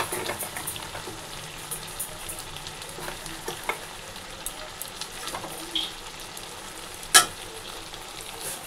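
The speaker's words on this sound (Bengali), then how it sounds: "আর এই যে এখানে ডাল ফুটছে" Lentil dal simmering in a pot in a home kitchen, a soft, continuous bubbling hiss with faint intermittent taps and clinks, fairly quiet, with one sharper clatter near the end.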